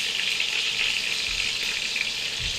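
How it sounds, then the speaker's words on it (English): Meatballs searing in plenty of hot oil in a pan give off a steady, close, dense sizzle that runs unbroken with no voices. "I got all my meatballs in the pan. There are lots of oil, searing and sizzling."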